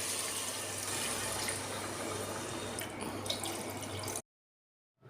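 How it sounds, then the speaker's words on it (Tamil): Water is poured into a pot of vegetable biryani masala with rice, a steady, bright splashing stream heard close and continuous for about four seconds before stopping abruptly. "இப்போ நம்ம அளவான தண்ணி சேர்த்துக்கலாம்."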